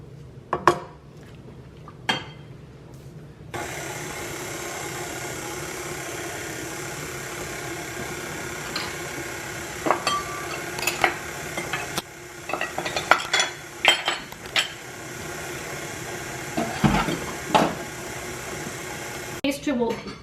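Pastry dough with icing sugar turns in a bowl on an electric mixer's beater, a steady motor whir broken by scattered clinks and scrapes of a spatula against the bowl, while a voice talks at intervals.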